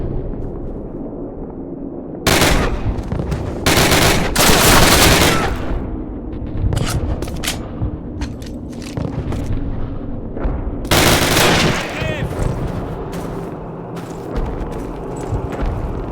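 Gunfire in the Call of Duty training and first missions, heavy bursts crashing in around two, four and eleven seconds over a constant rumbling battle bed, with sparser cracks scattered between them.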